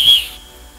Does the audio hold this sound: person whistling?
yes